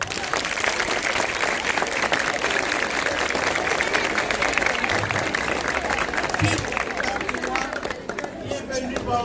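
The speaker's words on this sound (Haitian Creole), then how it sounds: "Applaudissez-les." A crowd applauds to welcome three former students of the CFM training centre, with sustained, dense clapping mixed with murmuring voices that thins slightly near the end.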